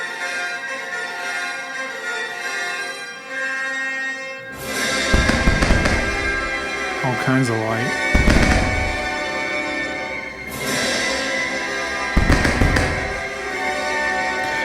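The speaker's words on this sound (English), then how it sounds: "it picks up with fireworks" A fireworks show in a Roblox Universal Studios game sets off crackling bursts and booming pops in several loud clusters after a quiet start, with a brief spoken line mixed in.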